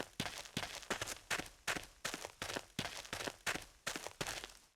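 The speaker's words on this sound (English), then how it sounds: "Oh, it's probably the footsteps." Player footsteps in Unreal Tournament 2004, a steady run of about eleven evenly spaced, crisp steps heard close and alone with no talking.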